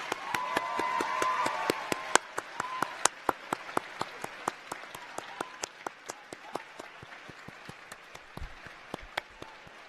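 Applause from a university graduation ceremony audience for the School of Environment and Life Sciences, sparse sharp individual claps spread across the hall with a soft crowd murmur, thinning out gradually toward the end.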